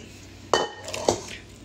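Pork back rib bones drop into a cooking pot for Korean galbitang, landing in two sharp clunks of bone against metal with a brief ring after each, close and fairly loud in a quiet kitchen.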